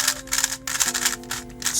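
A Gan V100 speed cube being turned in quick bursts of muted clicking layer moves, close up, with a steady faint hum beneath.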